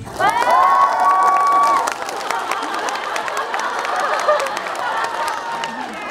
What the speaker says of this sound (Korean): 여기 없는 마동석 씨를 위해서 박수 한번